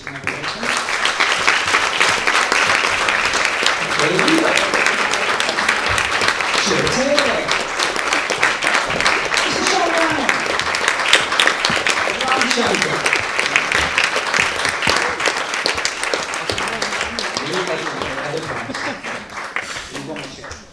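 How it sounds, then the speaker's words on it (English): An audience at a TEDx event in Oldham gives a sustained round of applause for speakers, a dense steady clapping that lasts the whole stretch while someone talks over it now and then. "can we have a round of applause for each and every person?"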